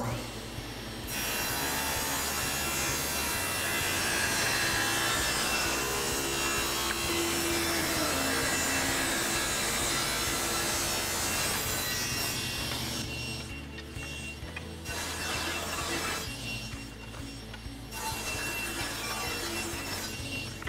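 Table saw with a magnetic featherboard cutting a miter along a wooden board, a loud sustained rasping whine that runs for several seconds, then dips and returns as the blade finishes and spins on.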